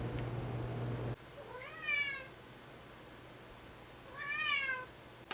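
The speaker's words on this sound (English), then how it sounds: "Damn cats." Cats meow indoors twice, each a drawn-out rising and falling cry separated by a few seconds of quiet, after a low background hum cuts off.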